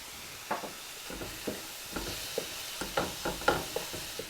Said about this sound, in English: while my ground beef is cooking